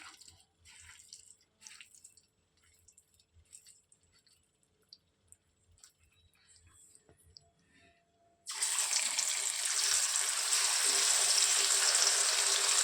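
Small fish dropped into hot oil for a shallow fry, hitting with a sudden loud, steady sizzle that rises after quiet drips and clinks and then holds strongly to the end.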